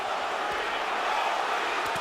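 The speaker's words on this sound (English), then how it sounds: "The crowd is coming alive" Boxing arena crowd roaring steadily during the Mayweather–Mosley fight, a dense, continuous wash of cheering and shouting heard throughout at a moderate distance.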